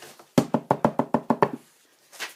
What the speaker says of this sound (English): The knocking at the door grew louder.